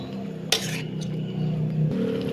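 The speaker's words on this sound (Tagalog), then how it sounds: "So, hahaluin natin." Stirring syrup and iodized salt in a pan for a cabbage vegetable dish: one bright metallic clack of a utensil against the pan, followed by a steady low bubbling hiss at close range.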